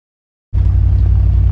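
An LS-swapped BMW E90 330i fires up after silence and holds a loud, deep, steady engine drone with a low rhythmic pulse, close to the microphone.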